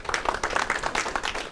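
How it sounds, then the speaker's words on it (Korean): Audience applause at a lecture on local autonomy and decentralization in Anyang, a brief burst of steady, dense clapping from a room of listeners. "박수 한번 주시죠"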